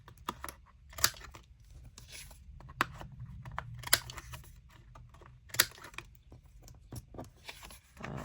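Sharp clicks and snaps come from a We Are Memory Keepers corner punch rounding the corners of paper craft tags. They arrive at irregular intervals, close and crisp, with quieter handling rustle in between and no talking.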